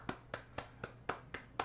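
A light golf clap: seven soft, evenly spaced hand claps close by, with no voices.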